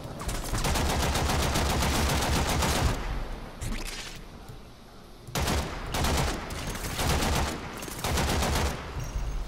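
Sniper and automatic gunfire in the video game Warframe, loud dense bursts of rapid shots in long volleys, broken by short pauses and a quieter gap before the firing resumes.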